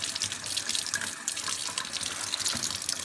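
A tap runs steadily into a sink as bugs are rinsed off a finger after scale removal on a Cattleya orchid, with the water spattering and splashing unevenly, close and continuous, and no speech.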